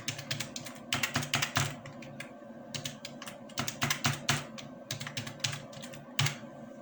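Rapid typing on a computer keyboard, with bursts of clicking keystrokes in uneven runs and short pauses, close and fairly quiet with no talking.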